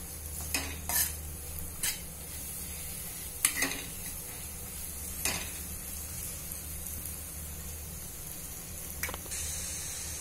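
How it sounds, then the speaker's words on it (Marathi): Spicy masala for dhaba-style whole masoor lentils sautéing in a pan, a soft continuous sizzle broken by several sharp scrapes and clinks of a spoon stirring against the metal. "आता हा मसाला आपण परतून परतून घेऊया।"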